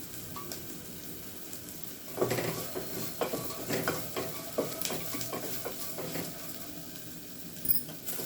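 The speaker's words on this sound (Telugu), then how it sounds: "తర్వాత కారం వేస్తున్నామండి. బాగా వేగాలి." Steady sizzling of chili powder and spices frying in a pan for tomato rice, with occasional stirring scrapes and small pops throughout; no talking.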